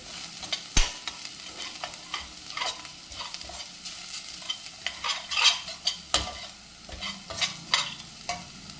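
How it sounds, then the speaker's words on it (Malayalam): Onions and garlic fry in a pan with a steady sizzle while a spoon stirs and scrapes against the metal, giving repeated close clinks and sharp taps throughout. "ഉള്ളി നല്ലോണം മൂക്കട്ടെ കേട്ടോ"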